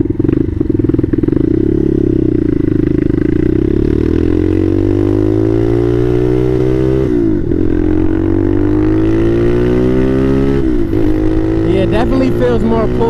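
A Bashan Motomax 250 motorcycle fitted with a Nibbi PE30mm carburetor is ridden. The loud, continuous engine drone rises steadily in pitch through each gear, with brief dips at the shifts.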